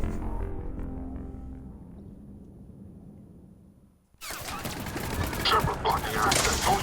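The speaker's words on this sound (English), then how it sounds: "You cannot be shooting me when the game's loading" Video game gunfire erupts abruptly after a fading stretch of quieter sound and a brief drop to near silence, then continues as loud, dense rattling bursts to the end.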